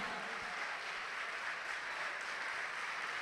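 A church congregation applauds during a sermon, a dense, even wash of clapping that holds steady throughout.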